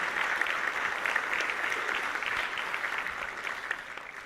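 A banquet audience at a student of the year event gives a dense, even round of applause for the sponsors, lasting about four seconds at moderate distance with no talking over it.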